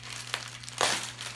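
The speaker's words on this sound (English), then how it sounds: "I'm about to use this wrap paper." Christmas wrapping paper crinkles and rustles close up during a gift exchange, with two sharper crackling bursts over a steady low hum.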